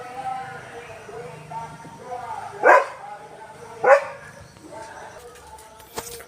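A mixed-breed Filipino street dog barks twice, a few seconds apart, close by, over a faint background hum with low voices.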